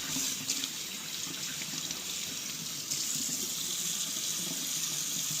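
Kitchen tap water runs steadily over a cured pork butt as it is rinsed, a constant close splashing flow with small shifts as the meat is moved under the stream.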